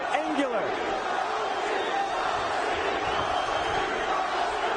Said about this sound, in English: The partisan crowd erupting with chants of Kong Lee.